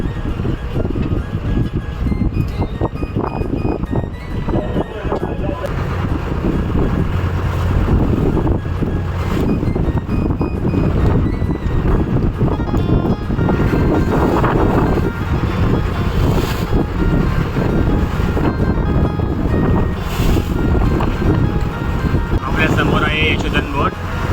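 Strong wind roars over a fishing boat at sea off Satpati near Mumbai, loud sustained rushing and buffeting mixed with engine drone and splashing water, with people talking over it for much of the time.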